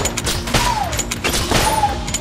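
Rapid gunfire from the bullet-hell video game Enter the Gungeon, a loud, dense stream of overlapping shots and booms with electronic swoops running continuously.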